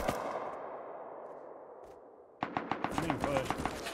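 AK rifle gunfire in the video game Rust: a sharp shot and a fading tail, then after a quiet gap a fast burst of around eight evenly spaced automatic rounds.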